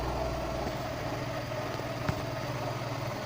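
Car engine idling with a dirty MAF sensor and air filter, holding a steady low hum and briefly surging on its own with a slight rev around the middle; recorded close, no talk.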